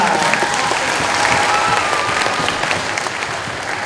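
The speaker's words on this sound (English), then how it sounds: "All of our leaders a final round of applause." Sustained audience applause fills a school leadership awards ceremony, a dense steady clapping from a large crowd that holds evenly throughout without talk.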